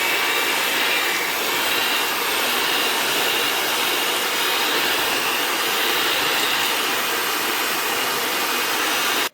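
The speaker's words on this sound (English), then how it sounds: "we're just going to beat all this together till it's all combined well." Electric mixer beating butter, sugar and milk together for old-style donut batter, a loud, steady whirring drone that runs unbroken and then cuts off abruptly at the end.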